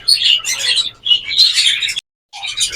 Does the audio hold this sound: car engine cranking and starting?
no